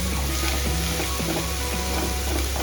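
Onions sauté in a hot pan with a constant close sizzle and crackle, punctuated by faint rhythmic scrapes of stirring.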